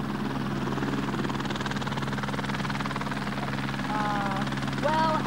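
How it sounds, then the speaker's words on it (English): Helicopter rotor and engine drone steadily throughout at close range, joined near the end by rising whistling whine, with people faintly talking underneath. "Well, as Des, Liz and Sandy head for their helicopter"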